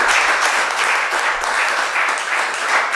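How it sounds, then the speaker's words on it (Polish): Warm applause fills a city council session in Ruda Śląska, a dense, steady wash of many hands clapping at close range, sustained and even for the whole stretch with no voices breaking through. "gorące brawa, rzeczywiście"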